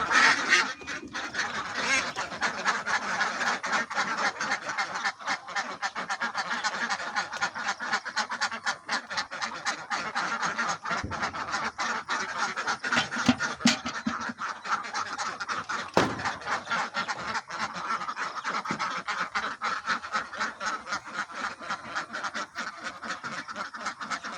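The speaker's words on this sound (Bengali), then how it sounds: "হাঁসগুলো খাচ্ছে না" A flock of ducks honks and quacks continuously at close range, loud, overlapping calls that keep up without pause, with no speech.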